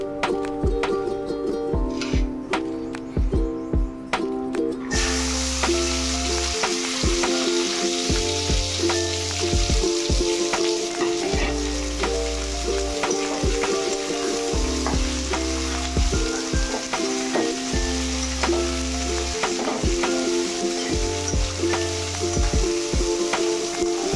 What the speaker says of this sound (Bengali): এখন এগুলোকে তেলে ভেজে নেব।